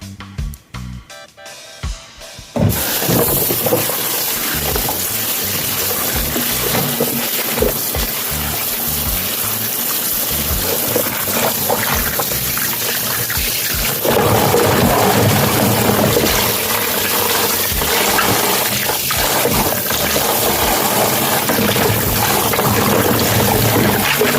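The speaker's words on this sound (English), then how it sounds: "I'm gonna wash all the vegetables" Tap water running in a kitchen sink while vegetables are washed for chicken foot soup, a loud steady gush after a brief start, with splashing that thickens midway as hands move under the stream.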